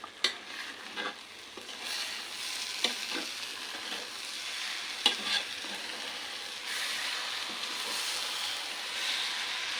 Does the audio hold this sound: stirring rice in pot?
yes